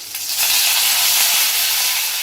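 Crushed garlic cloves drop into hot oil as tempering for a gongura chutney, producing a loud, close, steady hissing sizzle that starts abruptly and holds for the whole moment.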